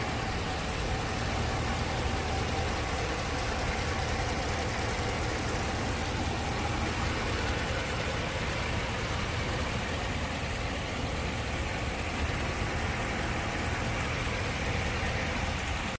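A 2016 Ram 1500 Rebel pickup idles with its hood open, a steady low engine rumble that holds constant and near for the whole stretch, with no talking.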